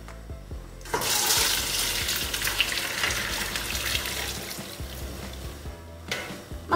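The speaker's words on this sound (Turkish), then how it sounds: "Şimdi makarnamı süzeceğim." Cooked pasta and its water pour through a colander into a plastic container. A loud, rushing splash starts suddenly and gushes steadily for several seconds, then cuts off.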